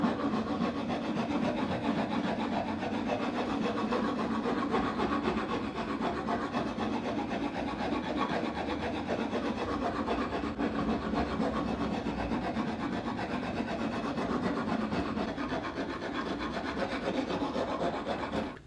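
Hand rasp shaping and rounding a small strip of old wood, a steady, continuous rough scraping of back-and-forth strokes, close and loud, with no talking.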